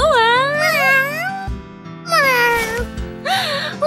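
A cat meows in several drawn-out, rising and falling calls, loud and close, with short pauses between them.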